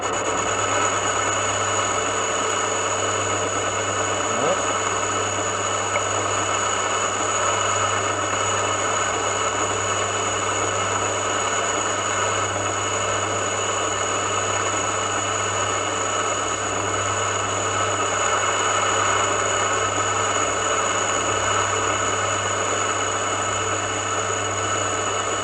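Steady mechanical hum and whine of the motor on a modified reciprocating saw, running continuously at a constant pitch for the whole stretch, moderately loud with no pauses and no speech.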